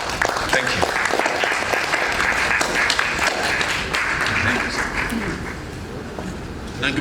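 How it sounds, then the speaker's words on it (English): Applause from an audience at a World Soil Day opening ceremony runs steadily for about seven seconds, full and sustained, fading a little near the end, with some voices mixed in beneath the clapping. "A round of applause for him once again."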